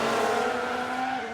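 A Ferrari Formula 1 car in the racing game F1 Manager 2022 spins out, its engine droning at a steady high pitch that sags slightly as it loses speed, heard up close without voices.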